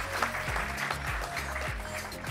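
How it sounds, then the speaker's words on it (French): Applause from a conference audience at a French media trading industry event, sustained steady clapping of moderate loudness, with brief low tones running beneath it. "Sous vos applaudissements."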